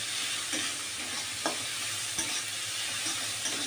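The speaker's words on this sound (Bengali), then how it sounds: "এটাকে একটু ভাজবো," Chicken and chickpeas with a little turmeric sizzle steadily in a pan, a constant close frying hiss broken by occasional scrapes and clinks of a stirring spoon.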